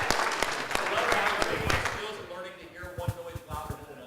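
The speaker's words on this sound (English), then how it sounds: "Big round of applause, ladies and gentlemen." Audience applause at a speed debate event, a dense wash of clapping through the first half that thins into scattered claps, with a host's voice speaking over it.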